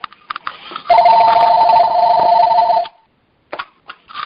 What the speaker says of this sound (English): I have a phone here.